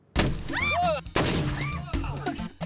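An Irish cannon fires a cannonball outdoors with a sharp, booming blast, followed by another loud crack, while excited voices shout over the reports.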